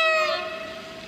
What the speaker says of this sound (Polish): towarek przetacza się bardzo powoli w stronę naszego